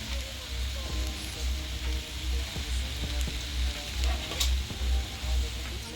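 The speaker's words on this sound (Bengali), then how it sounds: "খুন্তির সাহায্যে নেড়ে নেব।" Fried rice with vegetables stirred in a pan with a spatula: a continuous sizzle with rhythmic scraping and clinks of the utensil, close and moderately loud over a low steady hum.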